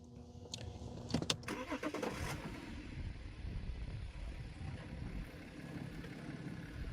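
A BMW F11 530xd diesel engine cranks and catches with a few quick bursts, then settles into a steady idling rumble close by.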